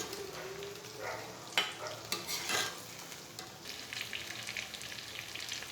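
Chicken pieces frying in a pan sizzle softly while a utensil scrapes and clacks through a few quick stirring strokes; quiet and close, with no voices.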